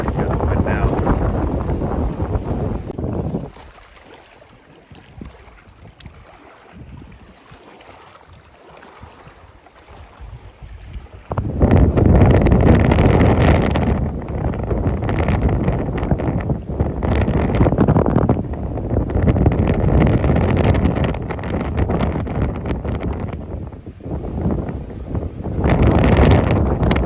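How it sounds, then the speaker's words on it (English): Strong wind at a lake on a fishing trip buffets the microphone in loud roaring gusts, easing for several seconds before surging back harder and staying strong. "Oh man, the wind is brutal right now."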